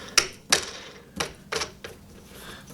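Sharp plastic-and-metal clicks and taps while a wing nut is fitted onto the bolt of a Hyundai HYTR60Li cordless grass trimmer handle, five or six close, separate knocks spread irregularly.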